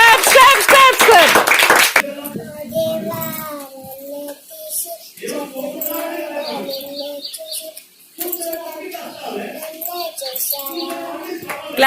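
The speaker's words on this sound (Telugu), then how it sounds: "claps claps claps claps claps claps" Sunday school children clap together in a loud, dense burst for a couple of seconds, then the clapping gives way to children singing.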